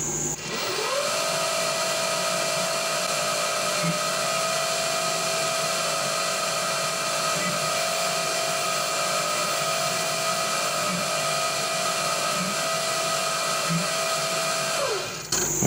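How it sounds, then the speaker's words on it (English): A milling machine spindle whines steadily as it spins up, drills holes in metal for a glow plug engine part for a long stretch, then winds down, with a constant mechanical hum underneath. "I'm just going to run this down using the quill manually"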